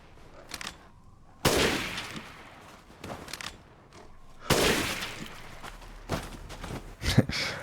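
Gunfire in a horror video game: two loud, sharp bursts of shots ring out, each trailing into a long noisy decay, with smaller scattered impacts and clatter between them.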